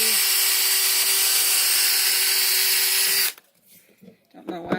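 A power drill whirs steadily and loudly while mud flaps go onto a Dodge Ram truck, then cuts off abruptly, leaving faint handling noises and clicks.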